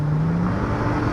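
A VW Golf GTI W12-650 pulling hard in third gear, its engine note holding a loud, steady roar with a rising tone as it accelerates.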